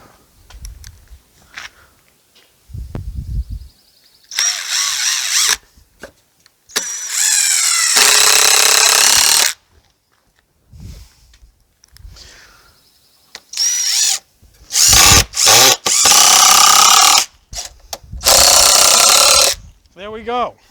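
A power drill drives screws into the wooden leg of a goat milking stand, with several loud bursts of whirring, some a few seconds long and others short and clipped, between stretches of quiet and brief talk.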